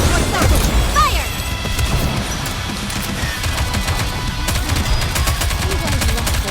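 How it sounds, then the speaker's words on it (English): Heavy gunfire from all gunports opens up in a battle in the video game NIKKE: Goddess of Victory, loud continuous volleys with crashes and impacts and a whistling projectile, mixed with game effects. "All gunports open, fire!"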